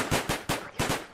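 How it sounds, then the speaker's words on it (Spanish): Rapid gunshots ring out in a Minecraft game: four sharp, loud bursts in quick succession with no talking. "Esos ruidos de disparos creo que significa que están llevando bien."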